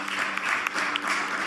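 A church congregation at a sermon applauds in a brief burst of clapping with a few sharper claps, moderately close, with faint voices underneath.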